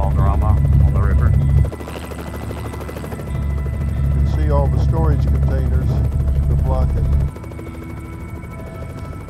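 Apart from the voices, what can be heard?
DPS police helicopter flying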